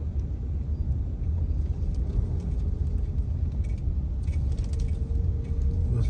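A car drives through a violent dust storm in DHA Phase 6, Islamabad, and eases to the roadside, producing a steady, heavy low rumble with wind buffeting that never lets up across the whole stretch.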